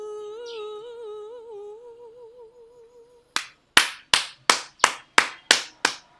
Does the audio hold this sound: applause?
yes